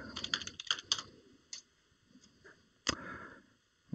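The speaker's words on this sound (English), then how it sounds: "let me just go ahead and type Savannah into the search" Someone types on a computer keyboard, a quick burst of close, crisp key clicks followed by a few isolated taps after short pauses, with no talk over them.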